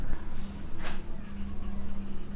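A pen scratches across paper while someone writes out a maths solution, giving soft, rapid strokes in quick bursts over a steady low electrical hum.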